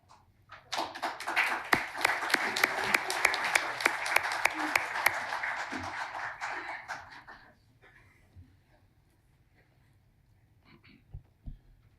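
Audience at a township council reorganization meeting claps together for about seven seconds, a crisp burst that fades out, leaving a quiet room with faint bumps.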